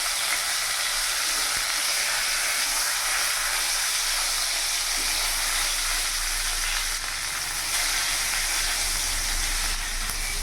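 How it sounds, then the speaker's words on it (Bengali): Cauliflower florets with salt and turmeric frying in oil in a pan, a continuous loud hiss and sizzle held steady throughout, close up with no talk. "ফুলকপিটা একটু লাল লাল করে ভেজে নেব।"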